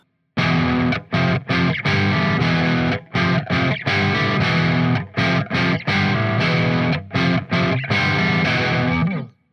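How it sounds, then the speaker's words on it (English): A distorted electric guitar riff of chunky power chords played on a Telecaster, in short rhythmic bursts with brief gaps between stabs, loud and close. "You have to have that Tele pickup to get the sound."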